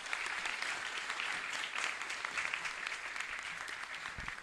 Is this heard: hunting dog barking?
no